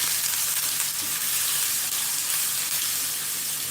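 Ginger and garlic fry in a pan for Nigerian jollof rice, giving a loud, steady sizzle with a faint scrape of stirring running through it, alone and unbroken.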